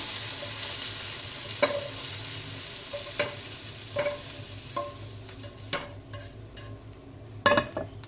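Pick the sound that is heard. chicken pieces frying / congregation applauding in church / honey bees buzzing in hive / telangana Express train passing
chicken pieces frying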